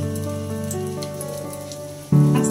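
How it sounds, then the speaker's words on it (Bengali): Mughlai paratha fries in oil with a continuous rain-like sizzle, close and even, under sustained tonal background music that swells near the end. "আস্তে আস্তে যত্ন করে এটাকে ভাজতে হবে।"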